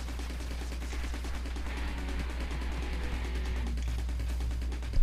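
Rapid video game gunfire with the fire button held down, a dense continuous stream of shots over a steady low hum with no pauses.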